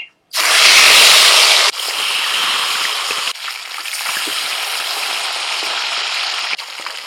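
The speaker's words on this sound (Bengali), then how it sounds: "তেল গরম হয়ে গেছে, একে একে এবার মাছগুলো ভেজে নেব।" Fish dropped into hot oil set off a loud, bright crackling sizzle that eases into a steady spattering hiss, broken by a few sharper pops and shifts as more pieces go in.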